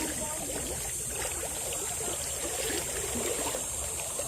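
River water in a mangrove swirling and sloshing as someone wades through it, a steady close trickling wash with soft splashes throughout.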